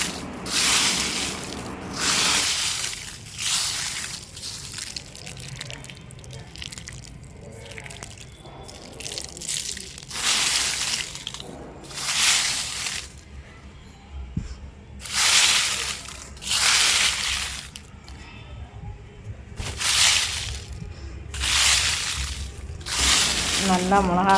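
Well sun-dried chillies for homemade kuzhambu masala powder are handled in repeated bursts of loud, crisp, dry rustling close by, with a voice talking in between the bursts.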